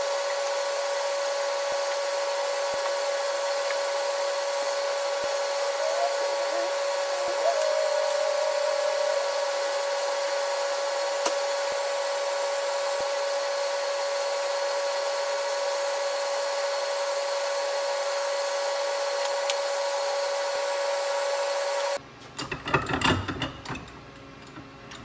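A power tool grinds and cuts steel die blocks to size for a stamping die, a steady loud machining drone running throughout, then a burst of harsher rattling cutting noise near the end.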